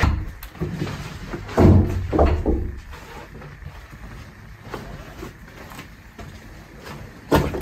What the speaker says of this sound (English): it's the door downstairs